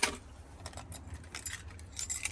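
Keys jangling close by in faint, irregular clinks and rattles over a low rumble, during a Trackhawk delivery.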